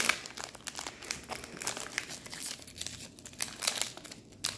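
Crinkly foil crumpling and tearing as a Pokémon Shining Fates card booster pack is ripped open, a close, continuous crackle with sharper bursts throughout.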